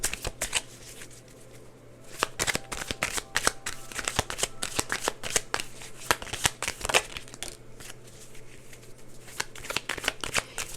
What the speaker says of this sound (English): I love my new decks, but new decks are so weirdly sticky. The cards stick.